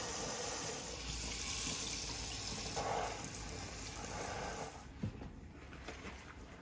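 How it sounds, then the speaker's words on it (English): Scrubbed yams are rinsed under a running kitchen tap, with a steady close rush of water for about four and a half seconds before it quietens to a softer trickle and splashes. "afterwards, I'm gonna rinse it and of course wipe it"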